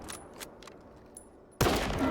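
Faint, scattered gunfire from S.T.A.L.K.E.R. 2 pops in the distance, then a sudden loud burst of shooting erupts close by and keeps going to the end.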